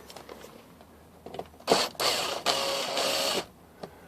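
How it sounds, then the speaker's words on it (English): A Honda Element's dashboard screws being backed out by a power driver: two or three close whirring bursts of about a second each after a few faint clicks and handling noises, with no talk. "Okay, so I'm going to pull those screws"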